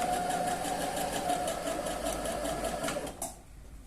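A domestic sewing machine stitches a zigzag seam in patchwork fabric, a steady fast mechanical whir with rhythmic needle clatter that stops abruptly near the end; no talking.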